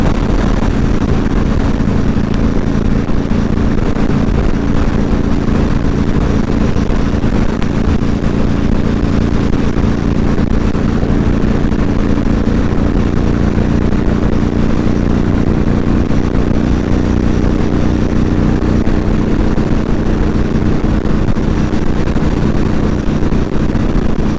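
An older car cruises at about 75 mph on the interstate with its engine revving near 3,500 RPM, a steady loud road and engine drone with heavy wind buffeting on the microphone throughout, no talking.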